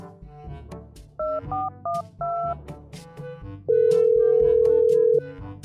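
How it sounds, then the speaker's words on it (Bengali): Phone call being placed: short dial-like tones in a quick sequence, then a long steady ringback tone, clear and near over faint background sounds. "দাঁড়া আমিও ফোন দিতেছি আমার বাপরে।"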